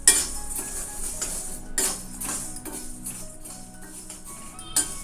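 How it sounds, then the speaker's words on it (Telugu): Toor dal dry-roasts in a pan while a spoon keeps stirring it, giving repeated metallic scrapes and clinks against the pan with a faint rustle of the grains. "కందిపప్పు ఇలా కలుపుతూనే ఉండాలి స్పూన్తో"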